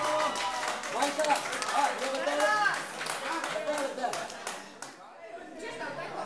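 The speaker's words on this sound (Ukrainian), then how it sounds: "Ваші оплески!" Wedding guests in a restaurant clapping at a bouquet and garter game, steady applause mixed with lively chatter and voices, fairly close and continuous.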